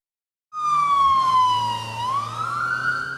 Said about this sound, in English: Police sirens and flashing lights was all you could hear in this Winston-Salem neighborhood